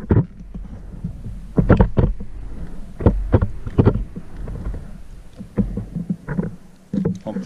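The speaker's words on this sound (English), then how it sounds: "Pump the grease." Grease gun pumping grease into the gauge wheel fitting of a mid-mount mower, a series of squelching, clicking pump strokes in an irregular rhythm, close and fairly loud.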